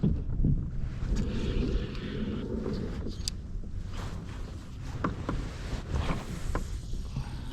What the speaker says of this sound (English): That wind out of the northwest is freezing.